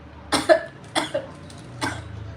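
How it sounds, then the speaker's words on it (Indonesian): Three short, close coughs in quick succession, evenly spaced, with a quiet room behind them. "Aku batuk mulu ya guys."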